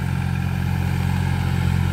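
A PT Euro 45 Plus 4WD tractor with a 3-cylinder 2761 cc 47 HP diesel engine runs steadily at close range, a loud, continuous low rumble and clatter with no speech.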